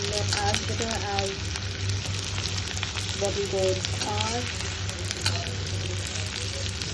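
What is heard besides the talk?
bitter gourd (karela) slices frying in a pan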